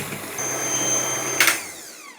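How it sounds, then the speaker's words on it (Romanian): An electric hand mixer on low speed beating eggs with sugar for a Rusanda cake, a steady whirring motor drone with a whining tone and a brief rattling knock near the end as it winds down. "Acum bat foarte bine ouăle spumă cu mixerul la viteză mică"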